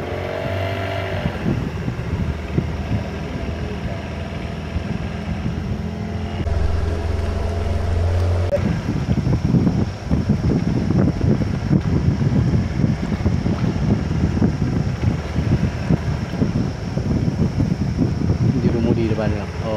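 Boat carrying people along a river to a camping spot in Kampung Gusai, steady engine drone with wind buffeting the microphone throughout, while voices talk over it.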